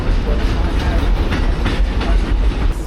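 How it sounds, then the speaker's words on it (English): Long passenger train cars roll and clatter with a steady rumble and faint rhythmic clicking of wheels on track, loud and continuous with some indistinct voices beneath. "It's gonna go around the corner and go all the way down there just to connect to that train right there."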